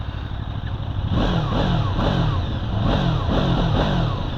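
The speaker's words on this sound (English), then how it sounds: "As I'm not sat on it, it's got the rev limiter on it." A QJ Motor motorcycle engine revs repeatedly against its rev limiter, a loud, close buzzing roar with rhythmic rising sweeps about every half second, running continuously.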